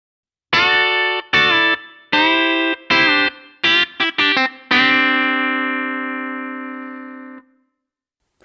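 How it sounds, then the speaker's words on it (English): Country-style electric guitar lick with effects, a quick run of picked notes leading into a pedal steel style bend that rings out as a long sustained chord for a few seconds, heard alone. "I've just played a pedal steel style bend there"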